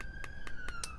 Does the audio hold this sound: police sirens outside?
yes